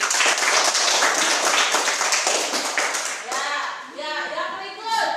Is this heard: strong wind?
no